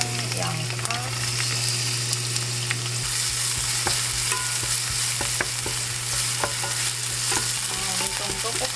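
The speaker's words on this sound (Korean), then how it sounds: "살짝 식용유 둘러주고 아까 이렇게 준비해놓은 마늘이랑 양파" Garlic and onion stir-frying in a little cooking oil in a pan, with a steady close sizzle, scattered stirring clicks, and a low hum in the background for the first three seconds.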